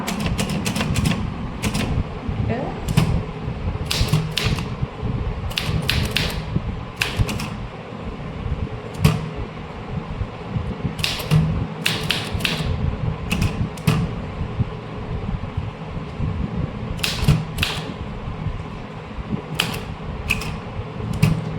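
A manual typewriter clatters through an official letter in bursts of sharp keystrokes with brief pauses, close and clear over a steady background hum.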